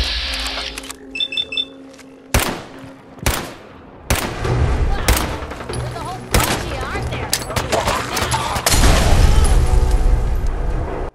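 Gunfire and explosive bursts from the video game Fallout 4, with loud single shots at first, then sustained rapid firing and booms that build into a dense, continuous barrage near the end.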